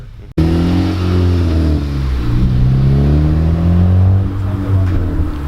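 A Honda Civic Si FA5 with a modified exhaust starts up after a brief gap, then revs repeatedly with rising and falling engine pitch, loud and close with no speech.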